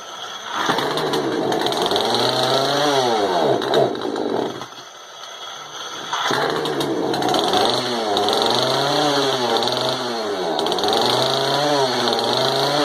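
A barn-find Poulan Pro chainsaw with a sticky throttle runs loud and close, its engine revving up and down in repeated surges, with a brief dip in the roar midway before it climbs again.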